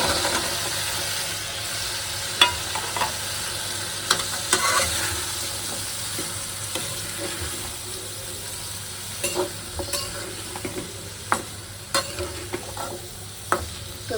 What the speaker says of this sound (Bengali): এই যে সাজনাটা কষাই নেব তো